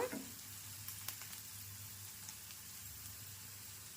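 Onion and green chili slices frying with turmeric in a pan, a faint steady sizzle with a soft knock at the start and occasional light stirring, quiet and without voices.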